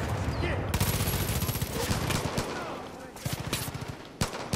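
Rapid bursts of gunfire fill a Far Cry 5 firefight, automatic fire crackling continuously with sharper individual shots near the end, while a voice speaks over the shooting.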